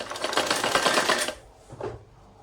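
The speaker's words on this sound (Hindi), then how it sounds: "अब इसको दूसरी साइड में मैं सिलाई लगा के दिखाती हूँ" A sewing machine runs steadily for about a second and a half while stitching a salwar seam, then stops briefly before a short second burst; no talking is heard.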